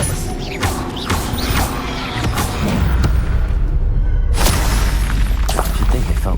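A spell cast in the Hogwarts Legacy video game, Expelliarmus, bursts out with a loud magical whoosh and crashing impact over busy mechanical game noise, a second strong blast rising near the end.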